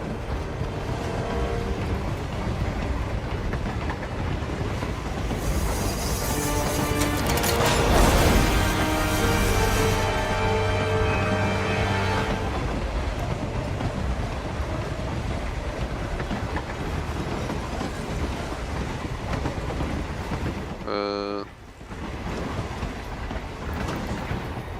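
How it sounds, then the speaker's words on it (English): A moving train in the Hitman 3 video game rumbles steadily and loudly throughout, with a denser roar midway and a brief dip near the end, with no talking over it. "they're on a damn train. It's moving the whole time."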